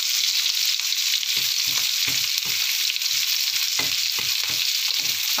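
Shallots frying in oil in a large wok for a prawn dish with green chilies, a loud continuous close sizzle with scattered crackles and stirring scrapes, no talk.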